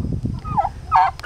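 Young farmyard turkeys gobbling near hens, two or three quick warbling gobbles close by, with scratching and shuffling low in the background.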